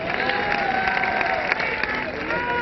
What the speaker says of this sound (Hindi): एक बार अपने लिए भी तालियां बजा लीजिए आप लोग।